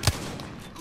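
A single sharp gunshot fired at enemies on a roof cracks out near the start, loud and close, then fades into a low, steady background.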